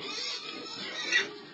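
Pigs oink and grunt at a pig farm in the Mahama refugee camp in south-eastern Rwanda, a short, moderately faint burst of snuffling calls heard on its own.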